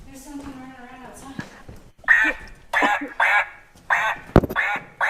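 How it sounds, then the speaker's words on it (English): A duck outside quacks in loud, repeated bursts at close range, the honking calls coming in an uneven series with brief gaps between them, while people talk over it. "There's the duck."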